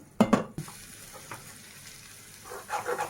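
Stuffed brinjal curry stirred in a frying pan, a couple of sharp spatula scrapes and clatters at the start, then a quiet low simmering sizzle, followed by another burst of scraping stir strokes near the end.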